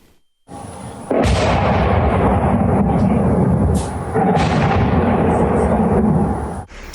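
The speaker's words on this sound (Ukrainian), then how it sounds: "серія гучних вибухів та масштабна пожежа." A heavy, sustained roar of blasts and rumbling from a massive attack on Dnipro, with loud broadband bursts following one another over several seconds, close and overwhelming.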